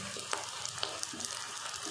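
Capsicum sizzles in a pan of frying ginger garlic paste, a soft, steady hiss heard close but quietly, dotted with a few tiny pops and faint stirring scrapes and no voices.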